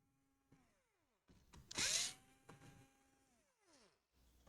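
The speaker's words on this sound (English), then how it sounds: "Let's unscrew this whole thing here." Small electric screwdriver undoing the bottom case screws of a Lenovo Ideapad 330-17IKB laptop, quiet short motor whirs that rise and fall in pitch, with a few soft clicks and a brief louder scrape between bursts.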